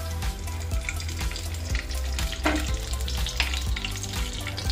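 Milk powder and sugar are stirred in ghee in a pan while making Mathura peda, with a continuous soft sizzle, scraping spoon strokes and low pan clatter close by, steady throughout.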